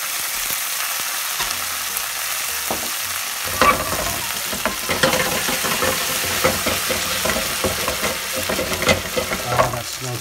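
A spoonful of minced garlic goes into a hot frying pan for spaghetti carbonara, bursting into a loud, crackling sizzle partway through with stirring clatter over a constant hiss, no voices.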